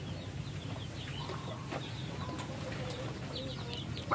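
Chickens cluck and chirp softly over a steady low rumble of background noise, a few faint calls scattered through.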